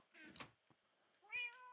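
A cat gives two meows, a short one near the start and a longer rising one near the end, fairly close and quiet, with soft knocks in between.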